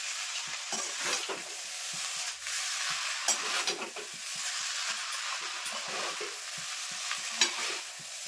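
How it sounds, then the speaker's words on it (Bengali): Chow mein noodles with vegetables and sauce stirred in a hot pan, a steady sizzle under repeated scraping strokes of the spatula, close and moderately loud, with no talking. "সস দিয়েও কিন্তু আমি খুব সুন্দরভাবে মিশিয়ে নেবো এখন করে।"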